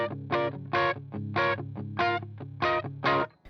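A riff on a distorted electric guitar with the volume and tone knobs rolled down for a muffled, darker sound: rhythmic chord stabs alternating with lower palm-muted notes, clear and close, no talking.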